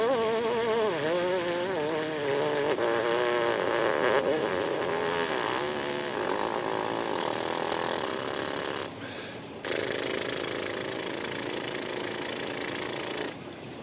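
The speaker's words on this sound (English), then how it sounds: "That was actually a triple pedal C lip buzz." A trumpet player's lips buzz a triple pedal C without the horn: a steady, continuous, insect-like drone with wavering pitch, held loud and alone for over ten seconds, dipping briefly once near the end.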